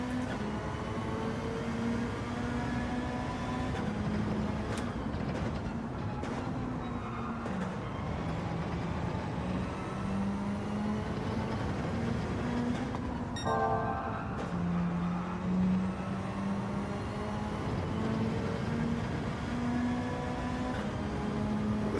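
A Subaru race car engine at the Red Bull Ring in Gran Turismo 7 drones steadily throughout, a loud, continuous tone that rises and falls gently with the throttle, accompanied by a brief mechanical clatter partway through.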